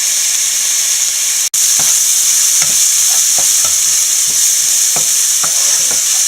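Crushed shallots and garlic sauté in oil with salted boiled yam for chena mezhukkupuratty, a loud, steady close sizzle punctuated by repeated scraping stirs of a spatula against the pan, with one brief dropout early on.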